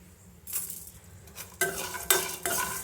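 Coriander seeds and cumin fry in a pan for a capsicum fry, starting as a soft hiss and then swelling into a louder, close sizzle as a spoon stirs and scrapes against the metal, with no voices.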